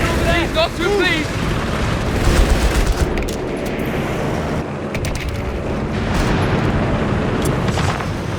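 A grenade bursts in Company of Heroes 3 4v4 combat, a heavy rumbling blast amid continuous battlefield gunfire and shouted soldier voice lines.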